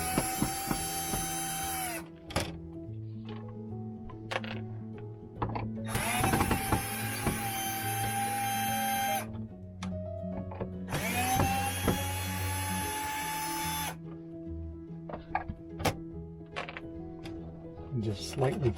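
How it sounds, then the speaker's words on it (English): A power driver backs screws out of the front cover of a motorhome furnace in several bursts of whirring of a few seconds each, separated by quieter handling clicks and knocks. "Our next step is removing this front. There's four screws that you have to remove."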